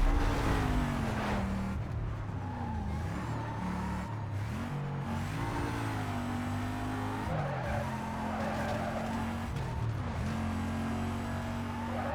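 A BMW M600 in Need for Speed Most Wanted races through the gears, its engine revving up and down repeatedly with shifts and tire squeal, loud and continuous for about twelve seconds.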